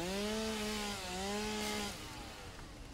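Chainsaw revving in the video game Satisfactory, used to clear objects. A loud, droning engine tone rises and dips in pitch over two pulls, then drops off into a rougher, quieter rumble.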